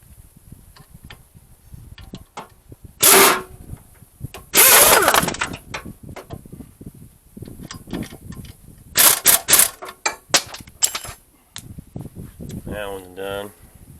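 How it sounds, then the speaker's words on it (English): Tightening a bottom bolt on a 2005 Dodge Neon SXT 2.0 engine with a 5-speed during a timing belt install: several close bursts of quick mechanical clicking and rattling, separated by quieter handling noises. "We're going to tighten up this bottom bolt."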